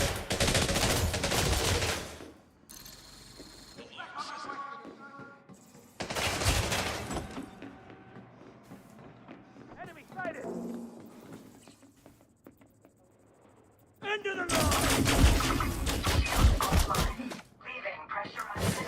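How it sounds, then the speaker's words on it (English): Bursts of incoming weapon fire hammer a spaceship in Elite Dangerous, loud rapid volleys in two heavy stretches separated by quieter cockpit hum and scattered impacts, with a voice speaking over parts of it. "I'm taking fire!"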